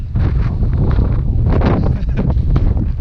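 Strong wind buffets the microphone on a mountain ridge while backpacking in the Wind River Range, a loud, close, continuous rumble with gusty surges throughout.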